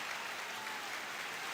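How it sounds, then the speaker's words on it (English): Steady applause from a crowd at a swim meet, dense, even clapping sustained throughout with no break, heard from a moderate distance without talk over it. "There's some applause."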